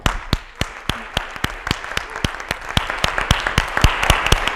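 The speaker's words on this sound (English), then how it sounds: "give a big round of applause for these 3 artists" A crowd applauds steadily, the clapping building from a few sharp claps into fuller, denser applause.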